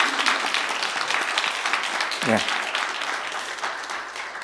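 A church congregation applauds to welcome visiting missionaries from Kenya, a dense, steady wash of clapping throughout, with a brief spoken word over it.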